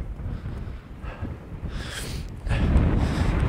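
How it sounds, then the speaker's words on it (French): Strong, icy mountain wind buffets a campsite being set up in the mountains, rough gusting roar and microphone rumble that swells and grows louder in the final second, with no voices. "Et le vent est de plus en plus fort."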